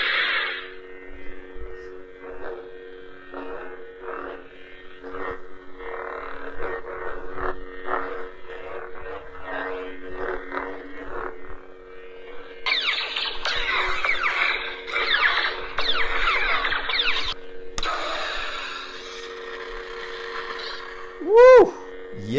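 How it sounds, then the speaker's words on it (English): A CCSabers Neopixel Obi-Wan Kenobi lightsaber running the Kyberphonic Obi-Wan sound font: a steady, close electric hum with crackling, sizzling bursts layered on top, ending in a sharp swinging whoosh. "Check out the sound from Kyberphonic Obi-Wan"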